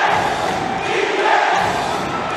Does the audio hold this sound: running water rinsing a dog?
no